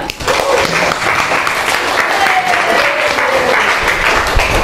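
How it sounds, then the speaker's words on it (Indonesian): A class of junior high students claps together in a classroom, a loud, continuous burst of applause that holds steady after a brief quiet start. "Tepuk tangan untuk kalian semuanya."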